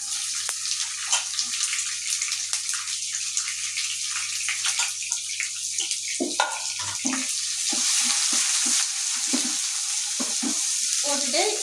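Chopped onions and green chillies sizzle in hot oil in a pan for potato kuruma, a steady close frying hiss with scraping stirs that grow busier toward the end, and no voices.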